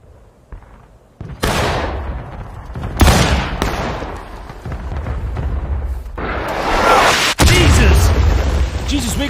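Heavy bursts of musket fire in the Civil War video game War of Rights boom and crackle in irregular volleys, some near and loud, others trailing off, with a rumbling battlefield background.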